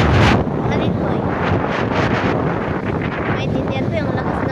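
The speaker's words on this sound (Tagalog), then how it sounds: "Maintindihan ko yung lakas ng hangin." Strong wind buffets the microphone in a continuous roaring rush with gusty swells, loud and close throughout, with faint voices partly buried beneath it.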